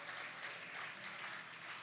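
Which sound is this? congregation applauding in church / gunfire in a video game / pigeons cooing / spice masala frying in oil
congregation applauding in church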